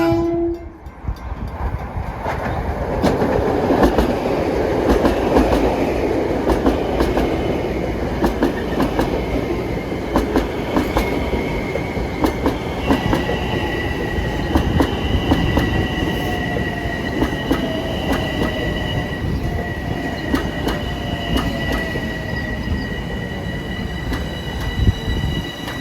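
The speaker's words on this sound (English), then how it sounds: "here comes train 1963, local from Ronkonkoma to Penn Station" Long Island Rail Road local train 1963 from Ronkonkoma to Penn Station rolls past close by, a loud continuous rumble with wheel clatter, high squealing wheel tones and a horn note, no talking.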